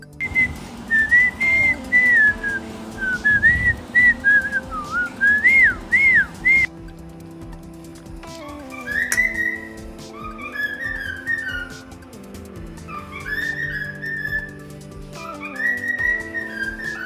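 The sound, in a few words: cockatiel whistling a tune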